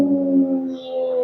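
A human voice imitates a fox calling in a forest, one sustained tonal wail held steady and fairly loud, heard alone.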